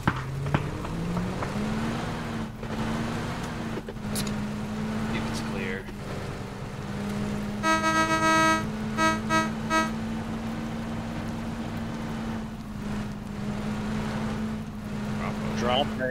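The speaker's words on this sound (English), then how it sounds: "Do we want to take this vehicle or?" A car engine in PUBG drives steadily throughout, a low droning hum that rises in pitch early on, with a tonal beeping pattern midway and players talking over it.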